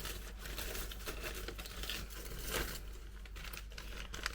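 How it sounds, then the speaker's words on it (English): White tissue paper being unwrapped from a clothing haul parcel, giving a steady run of soft crinkling and rustling with a brief louder crumple midway, close and quiet, with no voices. "first of all, we've got this in a little bit of white tissue paper."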